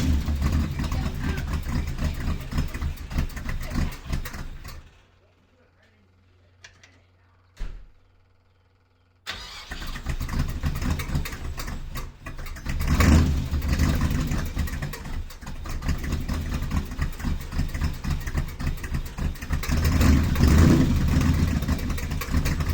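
A 350 small block V8 fitted in a Volvo Amazon runs loud and rough, with a brief quiet gap and a sharp knock before the engine roars back and revs in surges.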